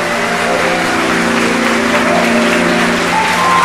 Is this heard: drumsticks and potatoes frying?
no